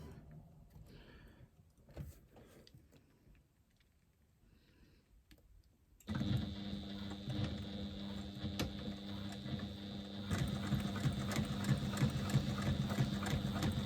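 A sewing machine stitches a seam on a lambda weave bag. After a few seconds of quiet handling, the motor starts suddenly and runs in a loud, steady whir with fine rapid clicking.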